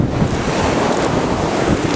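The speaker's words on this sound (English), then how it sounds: "There's like no waves, there's like actually a little bit." Small ocean waves wash ashore at Laguna Beach, heard as a loud, continuous rush of surf mixed with heavy wind buffeting the microphone. No voices.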